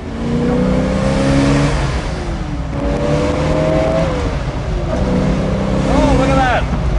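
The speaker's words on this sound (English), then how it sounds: "Eric, does he know we're out driving around in his car" A restored Boss 9 classic car engine revving while being driven, a steady loud motor drone with rising and falling pitch sweeps throughout, with people talking over it.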